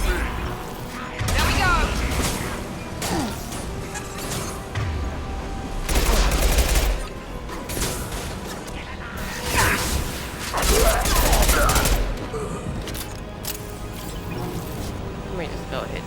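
Enemy gunfire in a shooter video game, repeated bursts and volleys of shots with booms and mechanical clatter, loud at times, mixed with a player talking over the action.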